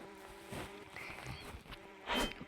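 Faint insect-like buzzing of bees in a video game drifts in and out amid soft game noises and small clicks, ending in a brief louder scratchy burst.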